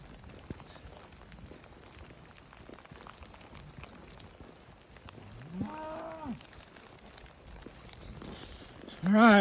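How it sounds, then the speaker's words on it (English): Cattle in a small pasture moo while being moved on, one drawn-out call in the middle and another louder one starting at the end, over a quiet outdoor background. "got to get these cows out of this little pasture"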